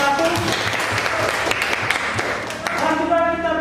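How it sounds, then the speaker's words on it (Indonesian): A classroom of students claps to honor classmates who scored 100 on a physics quiz, a steady, dense round of applause with voices mixed in. "Kita berikan tepuk tangan untuk yang dapat nilai 100."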